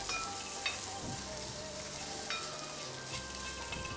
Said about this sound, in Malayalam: പച്ചമുളക് ചതച്ചത് ഇട്ട് കൊടുക്കാം ഇത് ഒന്ന് മൂത്ത് വരുമ്പോഴേക്ക്